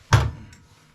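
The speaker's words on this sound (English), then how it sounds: "Let's close the door." One dull thud of a stove door shutting, close by, followed by a short fading rumble and quiet.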